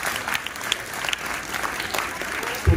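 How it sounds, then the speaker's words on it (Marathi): Audience applause at a high school felicitation ceremony for scholarship students, dense, steady clapping from a crowd filling the room, with a brief thump near the end. "सगळ्यांनी जोरदार टाळ्या वाजवायच्या त्यासाठी"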